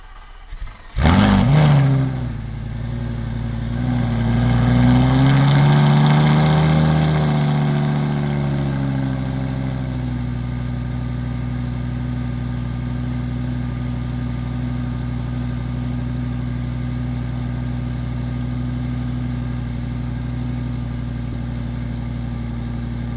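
A Lamborghini Gallardo V10 engine cranks and fires up after a fuel filter replacement, rises briefly in revs, then settles into a loud, steady idle that holds smooth and even for the rest of the clip.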